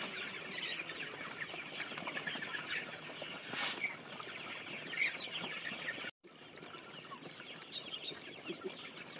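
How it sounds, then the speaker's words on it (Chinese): Farm hens in a mountain smallholding flock clucking as they are fed corn, a busy continuous chorus of clucks and calls at moderate distance, with a brief dropout partway through. "喂鸡啦"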